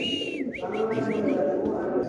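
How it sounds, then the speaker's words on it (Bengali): Spanish pigeons at a pigeon market, with a male bird held up, cooing in soft low calls amid a busy crowd of voices and a few chirping whistles. "এটা ভাই এটা নর কবুতর"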